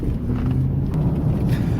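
A Pontiac Trans Am with its engine at full operating temperature, driving on a road: a steady, loud, low road rumble and engine drone throughout, with no voices over it.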